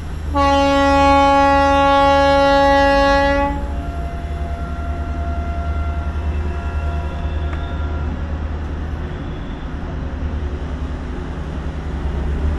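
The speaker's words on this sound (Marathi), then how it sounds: "समोरची ट्रेन पण आता सुटते आहे" A nearby passenger train sets off on the Kashmir line in winter: one long, loud horn blast opens, then a steady low rolling rumble of the moving train carries on to the end.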